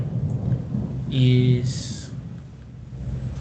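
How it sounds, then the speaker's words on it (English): Steady rain from a thunderstorm hisses in the background while a person talks over it, with a low rumbling swell in the middle. "There is thunderstorm right now, a big storm right now."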